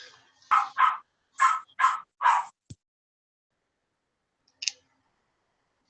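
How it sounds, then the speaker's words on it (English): Dogs barking nearby: five quick, sharp barks in an uneven burst, then a pause, then a single shorter yip. No one is talking. "My dogs won't shut the fuck up."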